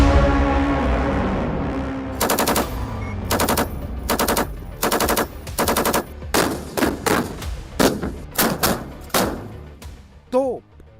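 Cannon, gun and armoured-vehicle fire in a military drill, with several loud bursts of rapid automatic fire at close range and single heavy booms, spaced irregularly, the later ones shorter, with a voice briefly heard.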